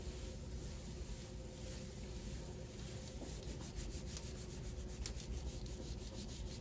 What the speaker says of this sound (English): And then I'm just going to rub with my fingertips really simply,